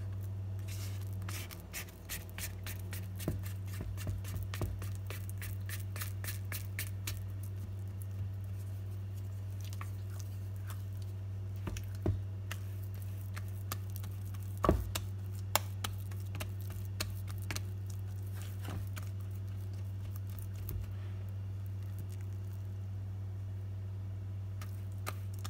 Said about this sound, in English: Some butter sounds.